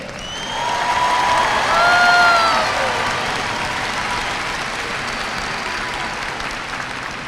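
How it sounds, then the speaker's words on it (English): A graduation ceremony audience gives a big round of applause for the class of 2022 at a high school, dense crowd clapping mixed with cheers and whistles that swell then settle into steady clapping. "Please give one more big round of applause for the outstanding class of 2022."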